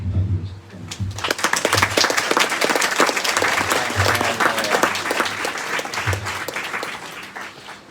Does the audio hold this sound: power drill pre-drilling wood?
no